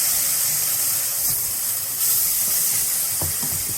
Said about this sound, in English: do a little deglazing, which is basically a fancy word of saying scrape the bits off the bottom